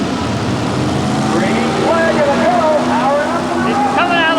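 A 4WD pulling truck revs hard at a 1990 truck pull in the Houston Astrodome, a loud, rising and wavering engine roar that builds steadily, with an announcer talking over it.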